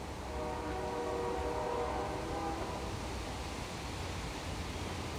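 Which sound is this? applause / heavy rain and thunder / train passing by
train passing by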